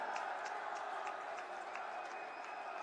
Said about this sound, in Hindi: माननीय नरेंद्र मोदी जी का जोरदार अपने स्थान पर खड़े होकर के स्वागत और अभिनंदन के तालियों के साथ